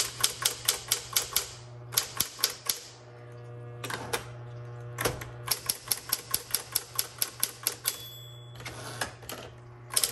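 Rapid keystrokes on a 1960s Smith Corona Coronet electric typewriter with manual carriage return, sitting on a typewriter pad: a close, loud, steady clatter of sharp key strikes broken by brief pauses, with a bright bell ding near the end.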